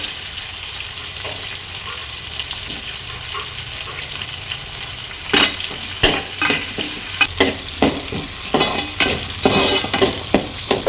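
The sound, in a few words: whole big onion frying and being stirred in a pan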